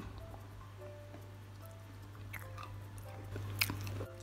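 Crispy fried pastel pastries are bitten and chewed close up, with a few quiet crunches building to a sharper crackling bite near the end over a low steady hum.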